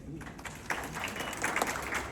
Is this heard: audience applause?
yes